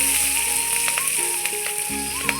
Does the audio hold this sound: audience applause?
no